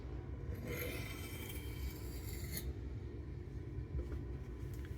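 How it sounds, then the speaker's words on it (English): A MagnaCut steel knife blade scrapes on a sharpening stone to grind off the burr, a faint, close rasping rub repeated in short strokes over low background hum. "grinding a little bit on each side until you either grind it off or it breaks off"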